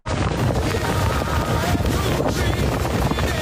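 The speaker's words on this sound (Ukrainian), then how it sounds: "смажив шашлик під ураганом" Strong hurricane-force wind roaring across the microphone while shashlik is grilled outdoors, a loud, continuous buffeting rumble with no let-up across the whole moment.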